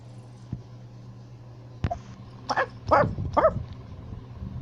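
Shih Tzu dogs let out a few short, high yips and barks in quick succession, close by and fairly loud, after a sharp knock and over a faint steady hum.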